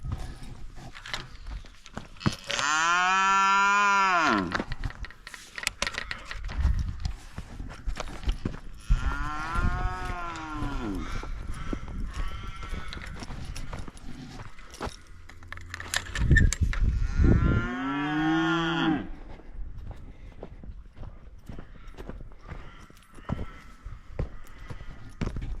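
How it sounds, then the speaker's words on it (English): Cattle on a farm low and moo loudly in several long, drawn-out calls spaced across the scene, with hoof clops and other livestock shuffling between them and no talk. "Sun's out, cows are mooing."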